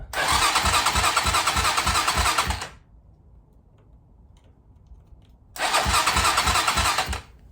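A motorcycle engine, dosed with starting fluid, cranks in two loud rhythmic bursts of a few seconds each, separated by a quiet pause, close by and with no talk.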